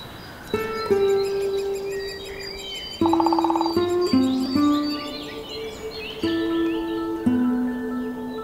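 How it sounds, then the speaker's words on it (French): Layered birdsong: long sustained whistled notes overlap with quick chirps and twittering trills from several birds, clear and fairly close, with no voices. "travailler avec différentes couches sonores, de différents oiseaux en fonction de telle et telle saison"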